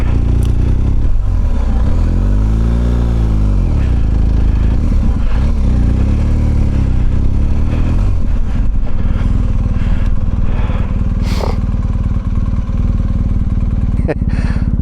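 A BMW GS motorcycle rides off-road through deep sand, its engine droning loud and close with shifting revs and some clattering, while someone speaks over the engine noise and wind.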